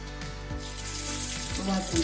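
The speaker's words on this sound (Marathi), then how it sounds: "थोडेसे जिरे टाकायचे" Cumin seeds crackling in hot oil, a close, steady sizzle under a low background hum, with a few soft knocks and a faint tonal sound near the end.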